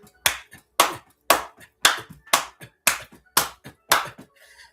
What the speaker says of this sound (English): with all this drum beating and hand clapping